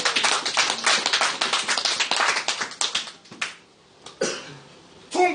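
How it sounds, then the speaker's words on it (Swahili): A church congregation claps for the Lord during a Swahili Bible study and prayer meeting, a dense burst of hand claps that thins out into a few scattered claps and stops near the end. "Hebu nisikie makofi kwa ajili ya Bwana"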